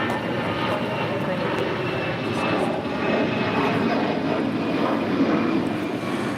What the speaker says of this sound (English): This is Allegiant Air Flight 372 taking off to Cincinnati on an A319.